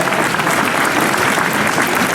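Loud, sustained applause from a ceremony audience at Ljubljana's European Green Capital title handover, dense continuous clapping filling the hall without any voices over it.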